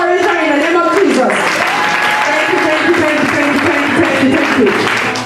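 A church congregation claps to welcome a speaker, continuous loud applause filling the room, with voices mixed into the crowd noise.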